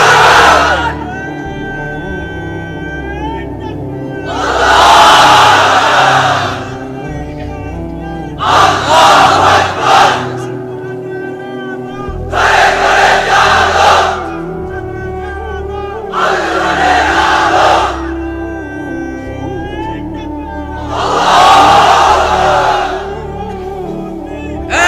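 A large crowd of unmarried men at a Bangla Islamic sermon gathering shouts the takbir "Allahu Akbar" in unison, in five loud bursts spread across the clip, separated by quieter pauses under a low steady hum.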